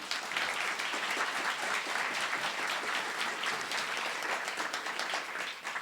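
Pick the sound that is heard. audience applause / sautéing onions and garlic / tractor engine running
audience applause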